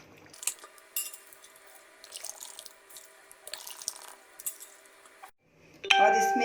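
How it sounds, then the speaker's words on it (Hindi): Water is poured into a cooking pot holding rose petals around a stand, a running, splashing stream with scattered drips and clinks that stops briefly before a louder burst of flow. "तो अब इसमें पानी डालेंगे स्टैंड के लेवल तक।"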